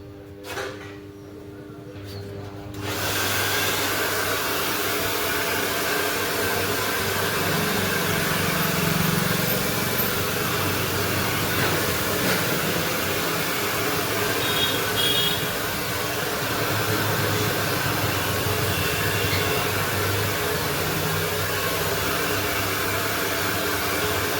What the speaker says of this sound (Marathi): केसाला ड्रायरने सेटिंग करूया हलकंसं.